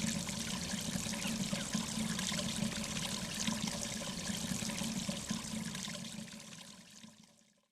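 Kitchen sink waste water draining down a waste pipe into a trapped gully, a steady broadband pouring and trickling rush that holds for several seconds with no talk, then tapers off at the end.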